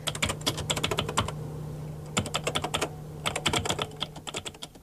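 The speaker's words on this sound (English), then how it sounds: "15 million other Americans tap away at keyboards on computers" Rapid clattering keystrokes on an office computer keyboard come in quick bursts with brief pauses, close and steady over a low constant hum, with no voices.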